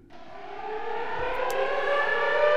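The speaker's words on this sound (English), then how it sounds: "But this sensor is supposed to activate these sirens?" Tornado warning sirens from a Minecraft weather and tornado mod wail in a steady rising electronic tone, swelling gradually louder, with a brief click partway through.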